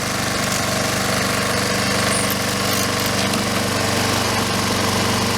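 A Honda Harmony II HRT 216 lawn mower engine runs steadily after a carburetor cleaning, a loud, close, continuous mechanical drone with no letup.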